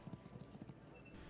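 Horse hooves in the video game Legends of Aria, a quick run of soft clip-clop steps close by and fairly faint, with someone talking over them.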